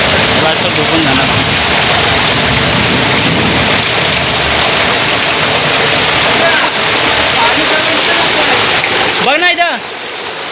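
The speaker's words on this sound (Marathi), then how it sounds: "पाऊस असा पडतोय की चालू झाला आहे" Heavy rain falls in a village as a loud, steady, dense rush of water that continues without a break. A brief tonal chirp comes near the end.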